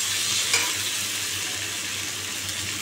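Food frying in a pan, an even, steady close sizzle with a soft low hum beneath and one small knock early on.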